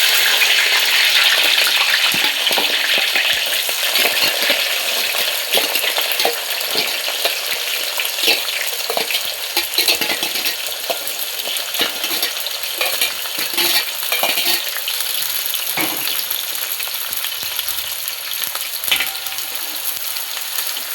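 Mustard seeds, dried chilies, green chilies and chopped shallots fry in hot oil in a pan, giving a steady loud sizzle with scattered pops and crackles and occasional stirring scrapes throughout.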